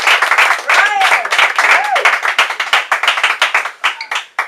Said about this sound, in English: we have another round of applause from Young Life